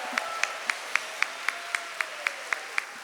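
Slow, evenly spaced single claps, about a dozen in a steady rhythm, ring out over a faint murmur at a religious gathering, sounding like rhythmic group clapping.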